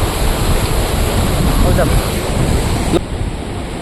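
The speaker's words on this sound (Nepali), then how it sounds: "चिसो हावा आइरहेको छ" Cold wind gusts by a river, a loud, steady rushing roar buffeting the microphone that eases slightly near the end.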